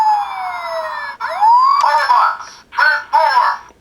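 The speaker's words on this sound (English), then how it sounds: "We get a siren again." An electronic siren effect from a Super Class Optimus Prime Transformers toy plays loud and close, starting with a falling wail and then rising and warbling in choppy bursts.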